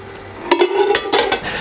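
Herb-, onion- and garlic-infused milk poured through a strainer into another bowl, a brief liquid splash and trickle with light clinks of metal against the bowl, close up.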